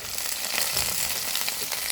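Curry leaves dropped into hot oil, giving a broad, even sizzling hiss that holds steady and close throughout.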